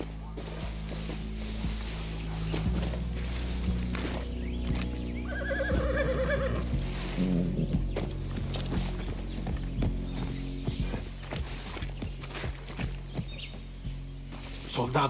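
Horses in a woodland in the video game Far Cry 6 neigh loudly, with a long whinny in the middle, while hooves clip-clop steadily under faint insect and bird ambience.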